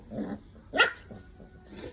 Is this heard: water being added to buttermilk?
no